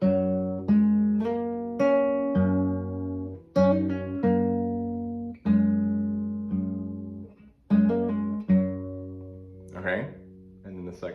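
An acoustic guitar plays the intro of a song very slowly, each plucked note and chord ringing out and fading before the next, clear and close with no voice.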